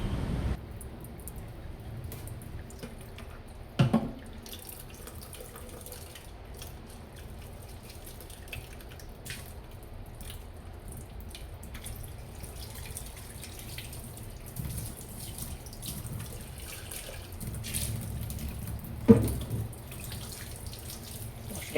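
Water from a tap runs gently while a part of an Eysin V30 vacuum mop is rinsed, a soft steady trickle at low level with a couple of brief clunks of handling.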